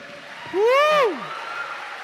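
A congregation applauds during a Catholic Sunday Mass homily, a steady wash of clapping with a loud rising-and-falling whoop or cheer rising above it partway through.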